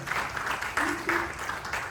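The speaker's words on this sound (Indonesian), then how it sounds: "Beri tepuk tangan yang meriah bagi anak kita." Church congregation applauding for a child during a sermon, a fairly steady wash of clapping across the whole moment, with some crowd noise mixed in.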